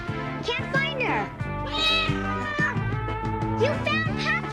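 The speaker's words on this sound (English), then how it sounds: "I heard her meowing." A cartoon kitten meows repeatedly, a string of high, wavering, sliding cries close and clear, one rising and falling after another.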